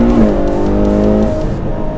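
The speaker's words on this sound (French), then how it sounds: "on se retrouve dans une superbe 812 GTS avec son sublime V12" A Ferrari 812 GTS convertible's V12 engine hums with a loud, steady, close-up drone. Its pitch holds, then eases slightly near the end.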